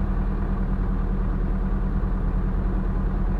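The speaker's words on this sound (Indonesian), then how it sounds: "Nah, ini suara truk." A deep, steady truck engine rumbles at idle, loud and close, with a constant low throb and no voices.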